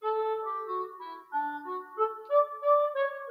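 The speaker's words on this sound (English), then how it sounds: "So I'm just going to play you a little bit of the clarinet on its own." Sampled orchestral clarinet played on a keyboard, a solo melody of smooth, sustained reedy notes moving up and down in a slow phrase, clear and alone with no talking.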